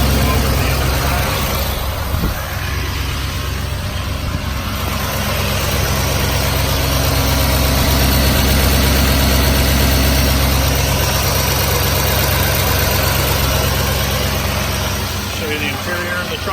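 Diesel engine of a 2008 Chevrolet 4500 Duramax bucket truck idling with the hood open, a steady, close low rumble with constant vibration throughout and no voices.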